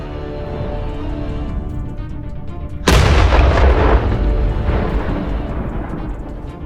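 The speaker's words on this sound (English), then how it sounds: "A cataclysmic blast." A tank blows up in a sudden, loud blast that cuts in sharply, followed by a heavy rumbling roar that slowly dies away, with no voices.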